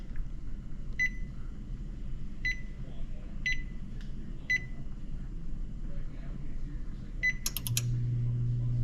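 An oven's control panel gives a series of short, sharp electronic beeps, about six spaced presses and then a quick burst, as it is turned on and set in a kitchen over a low hum.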